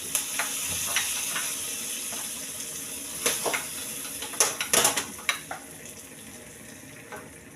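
Fish frying in a hot pan gives a steady close sizzle, broken by scattered clicks and scrapes of stirring. Several louder spattering bursts come through near the middle. No one talks.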